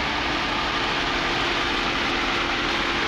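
A 2011 Chevy Camaro 2LT RS convertible with a 3.6 liter V6 idles steadily, a constant even hum heard close up with no talk.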